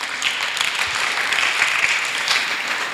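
A congregation in a church service breaks into applause, a steady, even wash of many hands clapping together for a few seconds without pause.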